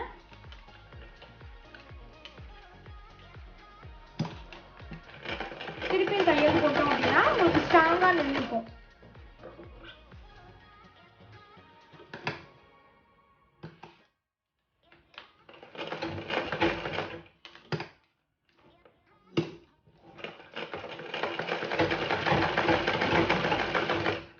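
A sewing machine stitches along both sides of a piece of cloth in a tailoring lesson, with bursts of fast mechanical whirring separated by pauses and short clicks, and someone talking quietly in between.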